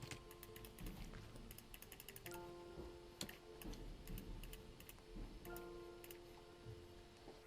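A computer mouse is clicked repeatedly while highlights are painted onto a picture in image editing software, with sharp, close, irregular clicks over a steady background hum.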